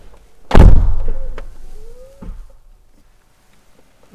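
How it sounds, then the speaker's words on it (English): A 2021 Mercedes V-Class van door swings shut with a loud, solid thump, followed by a faint rattle and a softer knock as the cabin settles into quiet. "So let's close the door."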